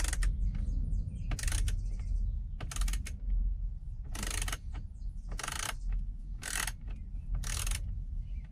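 A fastener being loosened by hand near the gear shift of a 1976 Cobra II, a series of sharp ratcheting clicks in separate bursts over a low steady rumble, close and fairly loud.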